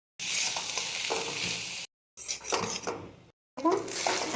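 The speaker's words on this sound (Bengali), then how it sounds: "এখন আমি একটুখানি ধনেপাতা দিয়ে নাড়াচাড়া করছি" Cooked rice is stirred in a pan over low heat for fried rice, with soft sizzling, scraping and clinks of a utensil against the pan, in three short bursts separated by brief silences.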